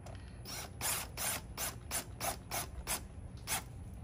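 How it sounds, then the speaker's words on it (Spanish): An impact gun tightening a bolt on an intake manifold of a Chrysler 300 or Dodge Charger or Magnum, firing in about eight short regular bursts of rattling hammering, close and alone with no voices. "vas a agarrar la pistola ahora y lo vamos a apretar de esta manera"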